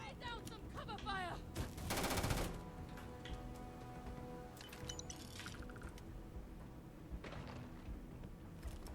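Sci-fi firearm bursts in the space role-playing game Starfield, sharp shots and a sustained automatic volley early on, then scattered reports over a busy background of game sounds.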